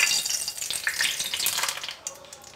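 Hot white oil sizzles in a kadai while frying batter-coated bok phool (hummingbird tree flower) fritters, a close, crackling hiss with bright spattering pops that eases off near the end.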